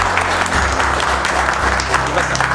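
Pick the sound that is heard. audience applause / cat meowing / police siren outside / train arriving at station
audience applause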